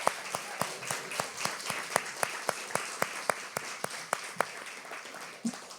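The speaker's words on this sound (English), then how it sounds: "can we just give Johnny one more round of applause?" Audience at an Asian American and Pacific Islander Month cultural panel giving one more round of applause, though here it is a single distinct pair of hands clapping in a steady, evenly spaced rhythm, fairly close and alone.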